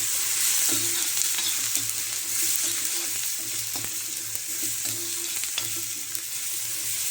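Onions fry with turmeric in an iron griddle pan for a spicy masoor dal and onion dish, a steady close sizzle broken by occasional stirring scrapes and clinks, with no one speaking.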